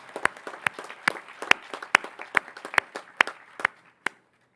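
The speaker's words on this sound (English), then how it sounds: "There they are. Round of applause." Graduation ceremony audience applause for a graduate and her alumni parents, a sparse crowd clapping with loud individual claps standing out, tapering off before stopping abruptly.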